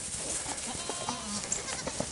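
Several goats bleat around feeding time on a farm, short overlapping bleats over a steady noisy outdoor background, fairly faint and close.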